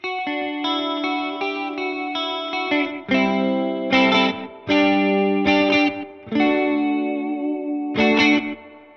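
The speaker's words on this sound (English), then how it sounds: "That's just a nice simple analog chorus" An electric guitar strums chords through a shimmering, warbling analog chorus effect, ringing out in short bursts with pauses between, clear and close.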